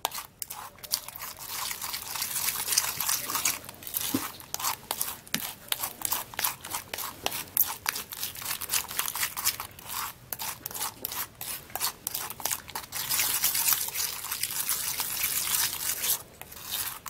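Egg whites and whole eggs are stirred into a paste, producing soft, repeated wet rasping and scraping strokes in an uneven rhythm, fairly quiet and close with no talking.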